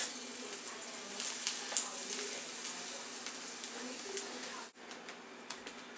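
Beef browns in oil in a pan before going into a slow cooker for stew, a continuous close sizzle with small pops and crackles, briefly interrupted by a handling thump near the end.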